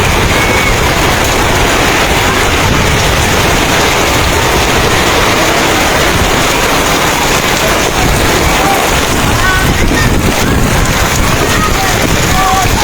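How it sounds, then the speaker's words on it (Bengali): Heavy rain pours down with gusting wind during a violent spring storm in Kasba, Brahmanbaria, a loud, dense, unbroken roar of drops battering surfaces close to the microphone. "প্রচুর বৃষ্টি নামছে, আমি যেতে পারতেছি না"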